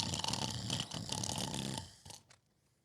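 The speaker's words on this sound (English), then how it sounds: "The coals pip-pop and the wind doesn't stop, but the bear snores on." Snoring from a bear in an animated read-aloud story, a rough, rasping breath that rumbles on steadily, then trails off and fades near the end.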